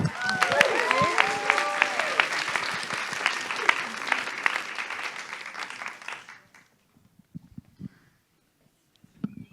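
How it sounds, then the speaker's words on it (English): Audience applause at an elevator pitch contest, a lively burst of many hands clapping with a few whoops, steady for about six seconds before dying away into near silence with scattered sounds. "Thanks for the applause, everyone."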